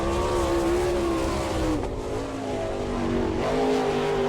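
A sprint race car screams around the Attica, Ohio dirt track on a qualifying lap, its loud, steady engine whine dipping briefly as it lifts off before climbing back to full throttle.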